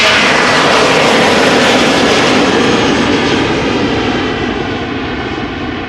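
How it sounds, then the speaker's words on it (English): A Boeing 737-800 jet airliner at Amsterdam Schiphol Airport gives a loud, steady broadband engine roar that holds throughout and eases slightly toward the end, heard alone without talk. "Going to Manchester. Boeing 737-800."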